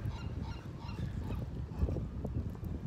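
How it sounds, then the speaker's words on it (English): A large seagull at the Santa Monica pier gives repeated raucous, honking calls at moderate distance, mixed with light wind and open-air background noise. "Big old seagull, I think he's laughing at me"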